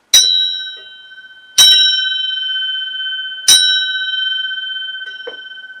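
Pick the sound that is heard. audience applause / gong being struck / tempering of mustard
gong being struck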